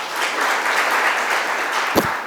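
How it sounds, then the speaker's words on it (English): Steady applause from an audience at a book launch event fills the room as a continuous wash of clapping hands, with one sharper clap near the end. "can I just give him a round of applause?"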